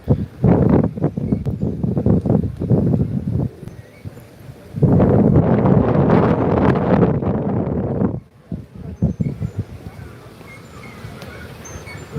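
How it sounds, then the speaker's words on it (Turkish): Gusts of wind in Sinop, Turkey buffet the microphone in loud bursts, dropping away briefly between them, with a voice occasionally under the rumble. "Biraz rüzgar var."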